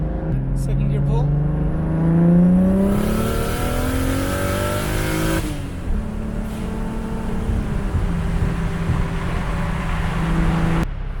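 Single-turbo BMW N54 car pulling hard in second gear, engine note rising loud and close as it revs up, then a shift and a steadier rising drone with road noise beneath.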